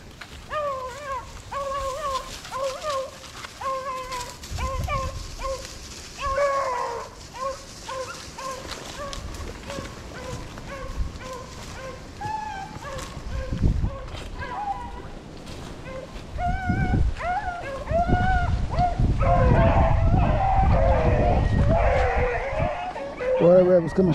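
Several dogs bark and yip excitedly during a rabbit hunt at White Oak Creek, overlapping and persistent, growing louder toward the end, with people talking in between.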